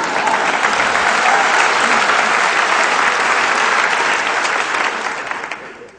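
An audience at a talk breaks into sustained applause, dense clapping that holds steady for several seconds before tapering off at the end.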